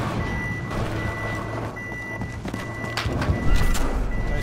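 In a Battlefield Hardline match, a command truck gives steady repeating reversing beeps over a rumbling engine, with continuous mixed game noise in the background.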